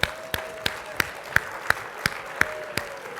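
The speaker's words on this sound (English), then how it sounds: "Give yourself a round of applause." Evenly spaced claps at a conference dinner, sounding like a small group clapping in slow unison, crisp and fairly close, with a faint steady tone behind them and no speech.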